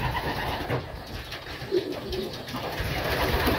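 Pigeons coo softly in a loft, a steady low murmur of several birds close by with no talk over it.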